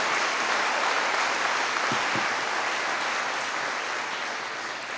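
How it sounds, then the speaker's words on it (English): Another round of applause from the audience at a Roane State Middle College cording ceremony, a broad, even roar of clapping from a large crowd that slowly tapers, with a couple of brief thumps partway through. "could we get another round of applause to the architect of Middle College?"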